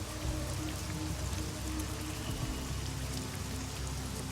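Steady rain pattering on a surface, a dense, even hiss with scattered droplet ticks, close and continuous throughout as an audio drama effect, with no voices.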